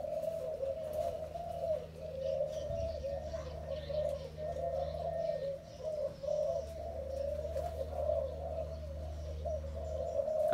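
A pair of Malaysian spotted doves kept for breeding coo softly and continuously, a low, steady, faint call with little else around.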